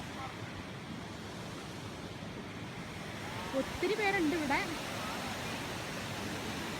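The Aanachadikuthu waterfall in Idukki gives a steady broadband rushing roar heard from a distance on a hillside. It runs unchanged throughout while a person speaks briefly over it midway.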